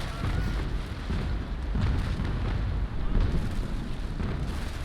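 Heavy booming cannon fire from naval carronades in the age-of-sail video game Naval Action, a dense rumbling wash of blasts and low thuds running continuously at steady loudness with no voices.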